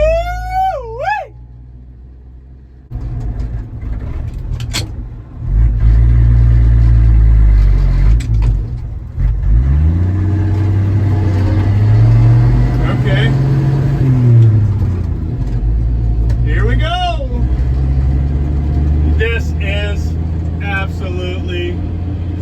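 A 1966 Chevy C10 shortbed truck, last licensed in 1979, runs and revs loudly up close, its engine pitch swelling and dropping, with brief whistle-like tones and talking over parts of it.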